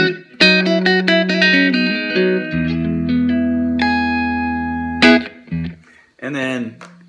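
Clean electric guitar notes and chords ring out with sustain and a bit of reverb, played alone through a small Marshall MG10 amplifier.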